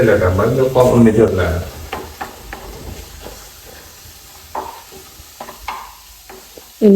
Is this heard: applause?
no